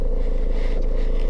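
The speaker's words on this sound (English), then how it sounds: "So this is inside the camper van, so I'm just going to show stuff starting and driving to demonstrate the thing working" A 2007 camper van engine runs loudly from inside the cabin, a steady, close, unbroken rumble with no pauses.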